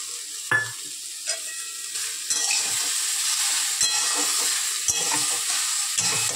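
Eggplant pieces sizzle steadily in a hot pan, a continuous close hiss broken by several sharp scrapes and clacks as a spoon stirs them, with no voices.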